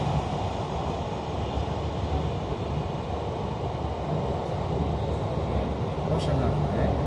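A train on Line J hauled by a BB27300 locomotive with VB2N bilevel cars, a steady loud rolling rumble heard from inside, with people talking over it.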